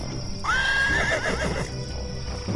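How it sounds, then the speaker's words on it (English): A horse in the video game Dark Eye gives a clear, close whinny lasting about a second, its rising then wavering squeal standing out over a steady game backdrop with faint clip-clop beneath. "Horses are almost as mysterious as fairies to me."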